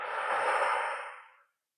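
A single deep exhale during a breathing exercise in a back-strengthening and relaxation session, a long breathy rush of air that is close and steady, then fades out after about a second and a half, leaving silence.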